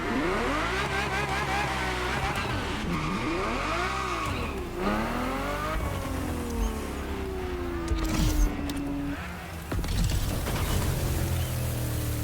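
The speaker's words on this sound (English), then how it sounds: "The car you're about to drive in this opening event is none other than the first Ferrari in the supercar bloodline, the Ferrari GTO." Ferrari GTO racing in a video game, its engine revving up and down through repeated gear changes with sweeping pitch rises and falls, loud and close throughout, no talk.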